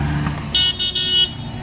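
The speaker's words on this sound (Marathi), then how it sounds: "गाडीचा हॉर्न बघा कसा आहे" A vintage Austin car sounds its horn in a short burst of three quick toots, loud and close, after a brief low engine hum.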